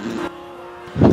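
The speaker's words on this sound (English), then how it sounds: "How come my car sounds like it's farting?" A steady, buzzy car engine drone in the video game Forza Horizon 2 hums throughout, rising into a louder throaty rev at the end.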